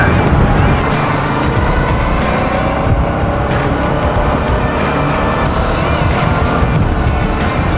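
A Suzuki V-Strom 650 adventure motorcycle cruising at 80 mph on a California road. Steady, loud engine drone is blended with heavy wind and road roar that continues without a break.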